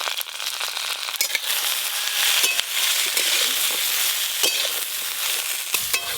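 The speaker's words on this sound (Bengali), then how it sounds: "সব সবজি একটু হালকা করে নেড়ে নিয়েছি।" Potato, eggplant and beans sauté in a hot pan with turmeric, giving a steady, close sizzle and crackle broken by occasional scrapes as the vegetables are stirred.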